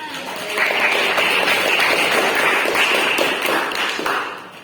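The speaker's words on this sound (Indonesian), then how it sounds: "tepuk tangan untuk semuanya" Applause from an audience at an Indonesian educator awards event, a dense steady wash of many hands clapping together for about four seconds, fairly loud and close, with no talk over it.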